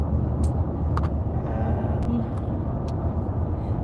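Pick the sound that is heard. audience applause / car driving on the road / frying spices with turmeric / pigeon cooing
car driving on the road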